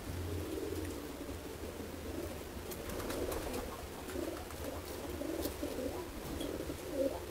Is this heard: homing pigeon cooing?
yes